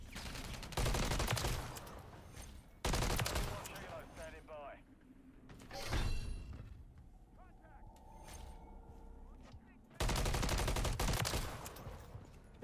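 Bursts of rapid automatic fire from an MCW rifle in the video game Modern Warfare 3 come in three or four loud sustained volleys, separated by quieter stretches of game ambience and a reload.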